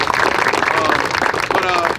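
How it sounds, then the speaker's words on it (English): An audience at a football 7on7 showcase claps for a coach. The dense, close applause lasts about two seconds, with voices mixed in. "So let's clap it up for Coach JJ"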